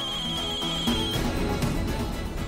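A telephone rings loudly and close in an indoor scene, an electronic ringtone repeating steadily with no talking over it.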